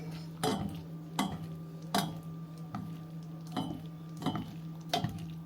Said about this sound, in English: And then I'm gonna add just a little swig of oil, a little bit of olive oil. Then we'll give that a little mix.